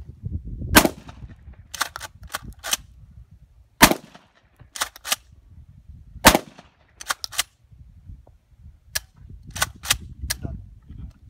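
Sharp, loud gunshots from a handgun fired one at a time at irregular intervals, some in quick pairs, with quiet outdoor background between them and no talk.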